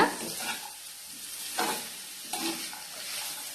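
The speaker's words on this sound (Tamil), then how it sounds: "சிம்லே வச்சு நல்லா வதக்கிக்கோங்க." Green peas, beans and other vegetables sautéing over low heat in a pan for rava kichadi, a soft steady sizzle with a few louder stirring scrapes, close and without talk.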